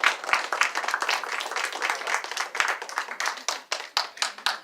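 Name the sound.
audience applause at open mic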